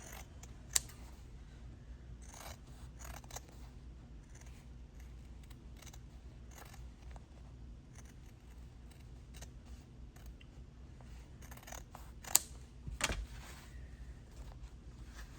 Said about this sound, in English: we will just take it out of the hoop, and we will trim around